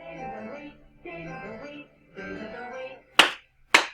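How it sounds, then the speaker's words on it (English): Two sharp, close hand claps land in quick succession at a morning circle time, right after a voice sings a few phrases. "Clap those hands."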